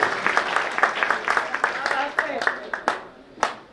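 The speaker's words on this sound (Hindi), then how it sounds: "तो एक बार जोरदार तालियां हो जाए सब जोरदार" Hearty audience clapping at a mushaira poetry gathering in Bhiwandi, with sharp, uneven claps breaking out beneath a poet's voice, which keeps speaking over the crowd.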